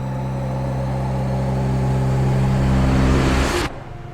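A loud, aggressive motorcycle exhaust roars steadily close up for nearly four seconds, rising slightly in pitch and volume, then cuts abruptly to a quieter low idle.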